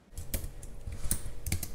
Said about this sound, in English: Typing away on Facebook is Amy Stern.